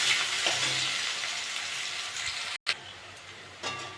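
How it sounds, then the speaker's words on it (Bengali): Onions frying in oil with cumin in a pan, a continuous close sizzle with a few light stirring taps and a brief break before the hiss resumes. "পেঁয়াজটা একটু ভেজে নেব।"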